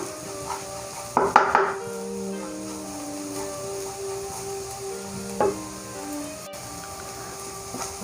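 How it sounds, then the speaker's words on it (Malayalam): Pepper powder and spices are stirred in a pan for a cabbage cutlet: two brief metallic clinks and scrapes of a spoon against the pan stand out over a faint, steady background. "കുരുമുളക് പൊടി ഇവ ഇട്ട് ഒന്ന് വഴറ്റിയെടുക്കാം."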